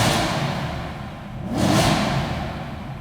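Warm BMW M3 engine revving inside a parking garage tunnel, two swelling roars with a dip between, echoing off the concrete at moderate distance.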